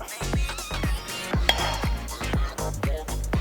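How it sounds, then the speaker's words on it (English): An omelette being flipped and slid onto a plate, a series of close metallic clanks and taps of pan and utensil on cookware, roughly rhythmic. "And now we'll put it on the plate, flip it from this side"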